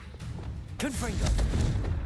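In Hogwarts Legacy, a voice shouts the Confringo incantation as the fire spell releases a sudden booming blast with a whooshing sweep, followed by a rumbling low-end impact that lingers.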